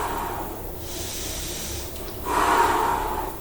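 Heavy, loud breaths close to the microphone during a bodyweight leg workout: a long hissing exhale, a pause, then a sharper, louder breath, with no talking.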